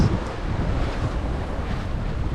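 Steady wind roars across the microphone aboard a Leopard 50 catamaran under code zero and full main, with water rushing along the hulls in a constant loud wash and no voices.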